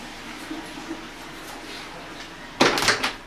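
A door opens in a quiet room: a short, sharp clatter and rattle of the door moving stands out near the end, after a few faint knocks and bumps.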